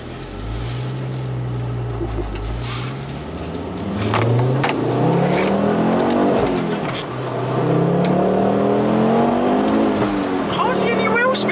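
A Ford Focus RS Mk2 accelerates hard through the gears, its engine note climbing repeatedly and loud up close, with a voice speaking over it.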